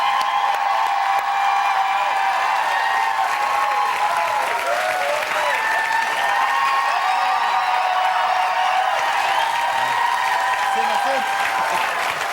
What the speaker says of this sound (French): On applaudit Stéphane Bellavance.